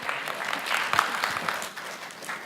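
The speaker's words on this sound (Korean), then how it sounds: "여러분 박수 한번 주시죠." Audience at a cloud data integration tech presentation clapping together, a dense, even round of applause that holds steady throughout, with no talking over it.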